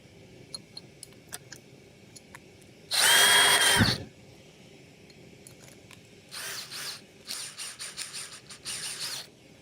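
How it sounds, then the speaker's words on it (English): A power drill used in a live glassblowing studio whines in one loud, steady burst lasting about a second. Later come shorter, softer bursts of the drill or similar tool noise over quiet ticking and background hum. "we're going to bring the drill right up close so you guys can see it in action"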